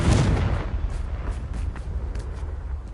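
A Confringo fire spell in Hogwarts Legacy bursts with a loud, deep boom at the start, then a rumbling blast that fades away under scattered crackles.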